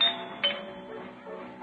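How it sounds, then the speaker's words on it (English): A radio-show doorbell sound effect rings with bright chiming tones, repeating a few times over a faint musical background. "they can't even hear the doorbell"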